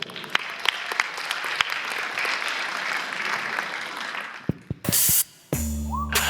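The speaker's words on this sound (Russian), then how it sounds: "Аплодисменты." A KVN comedy show audience applauds loudly and steadily for several seconds, then the clapping cuts off and music starts.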